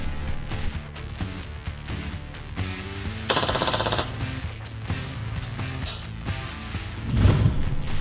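Rapid bursts of airsoft gas blowback gunfire, the loudest a dense volley in the middle of the stretch, sit over steady background music, with scattered sharp single cracks elsewhere.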